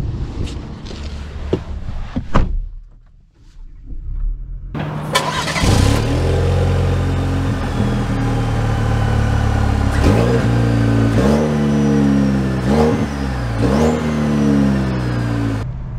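A Chevy Colorado Trail Boss pickup truck pulls away and accelerates, its engine rising through several gear changes in a loud, steady drone that fills the whole stretch.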